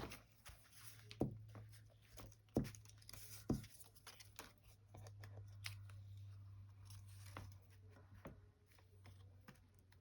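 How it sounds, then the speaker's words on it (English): Scissors snip a piece of paper in a journal: a few quiet, sharp cuts near the start, then small rustles and taps against a low steady hum. "we'll just snip this so that this little bulb and flower can show"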